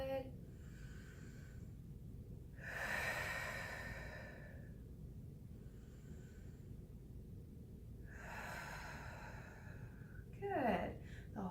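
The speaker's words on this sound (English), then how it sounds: "The whole time you should be breathing really deep." Slow, deep breathing during relaxing yoga shoulder rolls: a few long, soft inhales and exhales spaced several seconds apart, quiet and close.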